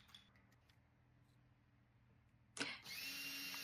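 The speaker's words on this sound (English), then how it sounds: "Pre-drilled the holes." A power drill whirs up abruptly and runs steadily at high speed, pre-drilling screw holes in a thrifted nightstand, close and loud, after a quiet stretch of faint room noise.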